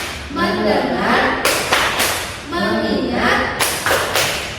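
A class of voices chants an Indonesian focus clap chant in unison, broken by a couple of sharp, loud hand claps keeping the beat.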